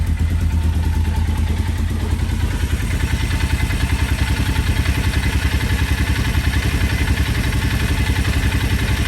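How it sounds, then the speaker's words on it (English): A Tracker 500 / Arctic Cat Prowler side-by-side, running on old fuel with no air box, idles close by with a loud, steady, rapidly chugging rumble and a clattery rattle, and nobody speaks. "All right, seems to be idling."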